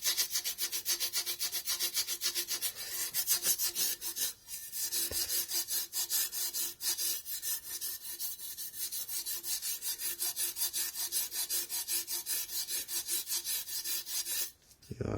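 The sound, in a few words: rubbing motorcycle exhaust with emery cloth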